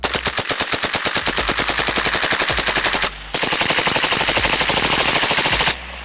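A rifle fitted with a heavy tungsten bolt carrier group fires fully automatic in two long, loud bursts of rapid, evenly spaced shots, with a brief pause between them and no talking.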